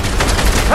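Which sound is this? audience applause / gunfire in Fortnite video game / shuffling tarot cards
gunfire in Fortnite video game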